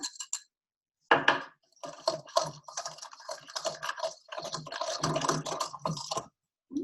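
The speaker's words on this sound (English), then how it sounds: "So now I'm going to whisk in the egg yolk and whole egg mixture." An egg yolk and whole egg mixture is whisked into cream nearing a scald: a quick, irregular run of close metallic clicks and taps as the whisk strikes the bowl, after a brief pause at the start.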